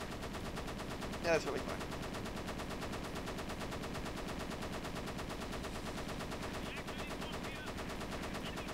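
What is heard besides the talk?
machine gun fire from a fighter plane in the video game Flying Tigers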